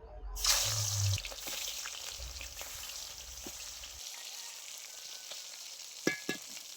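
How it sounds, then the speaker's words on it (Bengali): Lakshmi kajal fish frying in hot mustard oil in a wok: a steady, close sizzle that swells loudest at the start, then settles into an even crackle, with a couple of sharp clinks near the end. "এবার মাছটা ভেজে নেব।"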